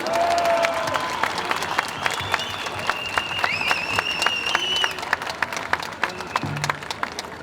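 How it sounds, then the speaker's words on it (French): A rally crowd applauds volunteers with sustained clapping and scattered cheers, sharp individual claps standing out near the front, a few whistles and voices rising above the steady roar. "vous pouvez les applaudir."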